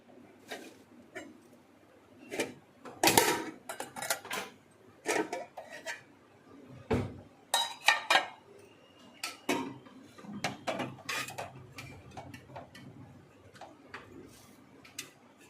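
Plates and serving dishes clink and clatter in irregular bursts as food is served at home, with sharp knocks of spoons against crockery and quiet gaps between them. No one speaks.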